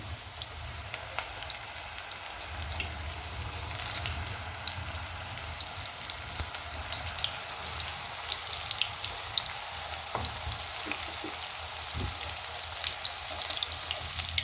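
Small onion-greens bhaji fritters deep fry in hot oil, a continuous dense bubbling sizzle with scattered crackles, steady and close, with no talking.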